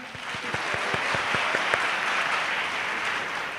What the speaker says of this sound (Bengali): তাহলে ওনার জন্য একটু তালি হয়ে যায়।